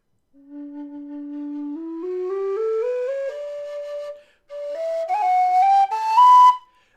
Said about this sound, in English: This is the Carbony wide bore low D close finger spacing.